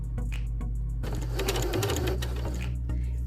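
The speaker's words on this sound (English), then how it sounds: "So now when I sew a few stitches" A sewing machine runs in short bursts of stitches, its needle thudding rhythmically up close with a brief mechanical clunk in the middle and no talking.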